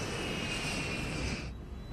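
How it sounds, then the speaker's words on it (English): Emery Worldwide Flight 17 cargo jet accelerating down the runway on takeoff, a steady loud roar of engine noise holding constant before dropping off sharply near the end. "As the plane accelerates down the runway, airspeed increases"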